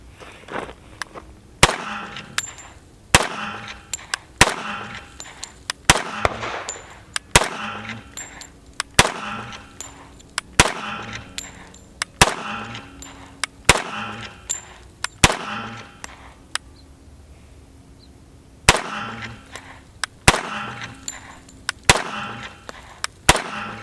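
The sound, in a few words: FNX-45 pistol gunfire, cycling rounds through a ProMag magazine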